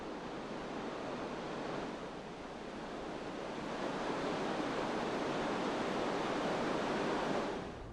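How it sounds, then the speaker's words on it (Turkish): The Tomara waterfall, milky-white water dropping 20 to 30 metres, makes a continuous broad rushing roar, steady and fairly distant, with no voices. "Tomara şelalesinin 20-30 metre yükseklikten aşağılara dökülen süt rengindeki suyu, kulağa hoş gelen namelerini birkaç kilometreye yayar."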